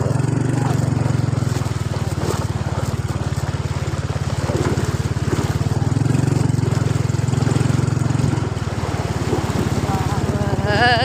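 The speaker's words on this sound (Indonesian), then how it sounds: "Kalau motornya masuk ya." A motorcycle engine in Perawang, Siak, Riau runs close and loud as the bike comes in, a steady low drone through the whole stretch with a rougher swell near the end; voices are faintly present underneath.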